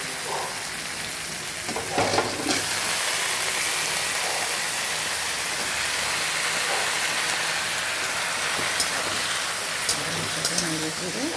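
Mixed vegetables frying in a pan for a chili curry, a steady close hiss and sizzle that runs the whole time, with occasional clinks of stirring and a voice talking over it.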